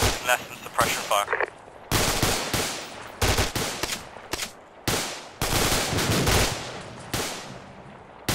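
Suppression fire in Arma 2: loud, close bursts of automatic gunfire in several separate volleys with short gaps, each burst dense and sharp, with faint radio-like chatter between.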